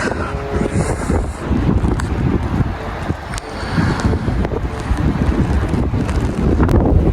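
Strong, cold wind outside a house buffets the microphone in loud, rumbling gusts that rise and fall, with faint flapping in the background.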